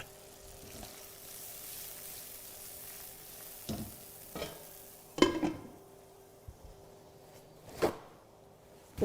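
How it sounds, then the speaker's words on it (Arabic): Sliced button mushrooms fry in a covered pan with a soft, steady sizzle, broken by a few sharper pops and clatters of the lid or utensil, fairly quiet with no talking. "توجور نغطيوها المقله باش ما يترتقش في وجهكم هذاك لو شامبينيون"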